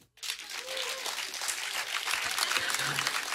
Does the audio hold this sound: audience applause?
yes